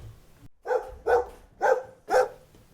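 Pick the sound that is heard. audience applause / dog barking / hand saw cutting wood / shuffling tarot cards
dog barking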